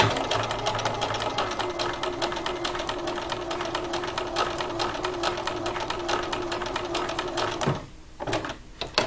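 A sewing machine stitches a rounded patch pocket within the seam allowance, running as a steady close whirring hum with rapid needle clatter before briefly pausing near the end, then starting again.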